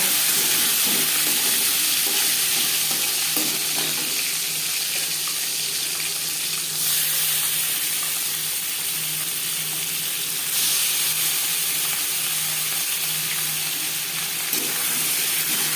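Sugar hitting four or five spoonfuls of hot refined oil in a pan, a steady broadband hiss and sizzle that stays loud and even throughout, close by, with no voices.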